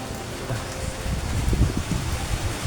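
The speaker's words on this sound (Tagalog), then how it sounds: "Ang lakas ng hangin, uulan." Strong wind before rain, outside a house, rustles and buffets the microphone in low, uneven gusts that swell toward the middle of the short stretch.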